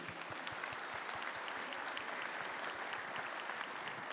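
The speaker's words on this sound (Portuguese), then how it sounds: "Pode aplaudir, pode aplaudir." Audience applause rings out steadily at a church gathering, a dense wash of clapping hands sustained evenly throughout at moderate distance, with no voices over it.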